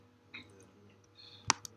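Computer keyboard arrow keys are pressed during live coding of an old-school video game, a few faint, quick clicks close together, the last two sharper, in a quiet room.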